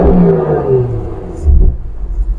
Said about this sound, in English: Couple sound checks, here's what it sounds stock.